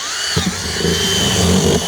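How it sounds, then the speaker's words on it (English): A power drill spins a 10 mm bit into a hole, a steady close whine with high harmonics running for about two seconds, loudest toward the end. "So now I've just got a 10 mil drill bit and I'm just going to drill into this hole here."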